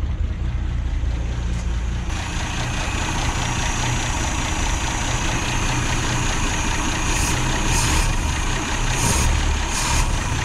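An old Ford Falcon Ranchero engine, abandoned for years at a wrecking yard, runs unsteadily with a steady rough rumble, close and continuous throughout, with no voices heard.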